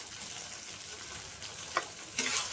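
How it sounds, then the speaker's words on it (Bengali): Spice paste with turmeric and chili powder being stirred and fried in a pan, a steady soft sizzle with a couple of brief scraping clinks near the end, close and fairly quiet. "ভালো করে নাড়াচাড়া করে মিশিয়ে কষিয়ে নেব"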